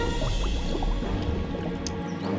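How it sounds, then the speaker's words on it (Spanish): Cartoon bubbles gurgle and pop underwater in quick, irregular bursts, fairly close and clear, with no voices over them. "No, son las burbujas."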